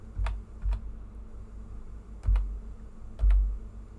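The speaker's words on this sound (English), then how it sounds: "if you type in Debug" Keys tapped on a computer keyboard while searching in The Sims 4, a few sparse clicks with gaps between them, close and fairly quiet, with no talking.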